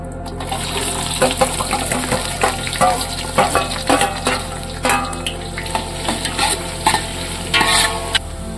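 Whole spices and bay leaves fry in hot oil for a mutton dish, giving a steady, close sizzle with repeated clattering stirring strokes throughout and no talk.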